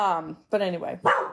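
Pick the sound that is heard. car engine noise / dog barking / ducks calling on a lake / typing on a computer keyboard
dog barking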